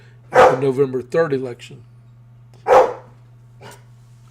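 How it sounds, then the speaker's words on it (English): A dog barks in the background in a few short bursts while someone speaks over it, with a steady low electrical hum underneath. "That's my dog barking."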